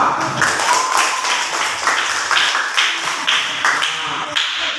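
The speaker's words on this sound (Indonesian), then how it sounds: "tepuk tangan untuk kelompok 2" Students applauding a group in a classroom, a close, brisk patter of hands clapping in uneven pulses, loud and sustained throughout.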